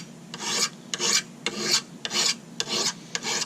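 A hand file rasping across metal in slow, even push strokes, each a gritty scrape of about half a second separated by short pauses, close and clear with no talking.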